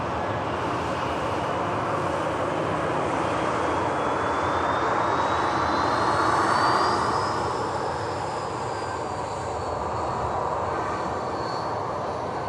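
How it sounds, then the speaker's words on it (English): An Air Baltic Airbus A220 departs Manchester Airport, its jet engines roaring loud and steady, swelling near the middle and then holding as the aircraft climbs away. "Here goes the Synaptic A220 heading off to Zurich, actually, with Air Baltic."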